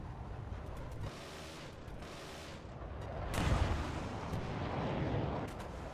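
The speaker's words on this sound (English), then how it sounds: "That missile that just hit me did way too much damage." A missile strikes the player in a combat video game, a dense roaring blast of rumbling explosions and gunfire that swells louder midway and keeps thundering to the end.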